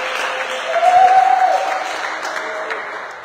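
A church congregation applauds the Lord in a dense, continuous wash of clapping that swells and then eases slightly, reverberant and moderately loud.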